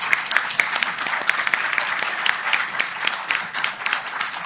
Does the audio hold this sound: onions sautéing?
no